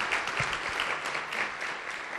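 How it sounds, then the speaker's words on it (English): Students in a university keynote audience applaud themselves, a continuous wash of many hands clapping at once, fairly loud and even throughout, with no voices standing out. "Give yourselves a round of applause."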